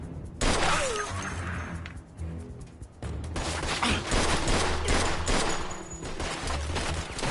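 Guns fire in the Mafia 2 video game as a dense, loud barrage of rapid shots, with crashing and shattering impacts mixed in, close and nearly continuous after a brief opening pause.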